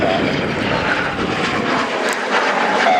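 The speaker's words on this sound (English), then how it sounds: "It's a pretty old machine, an old design, the Saab 105." An Austrian Air Force Saab 105OE jet trainer with twin General Electric J85 engines roars steadily overhead during an air show display at RIAT Fairford, a loud, broad engine rush with no talk.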